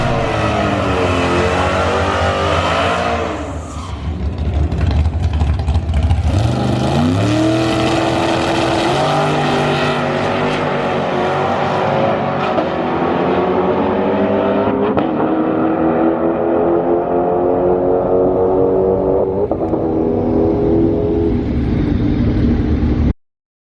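Drag car with AAD drag pack suspension and lowered tire pressure launching hard down the strip, a loud engine roar that dips briefly, then climbs through rising gear-by-gear revs before cutting off abruptly.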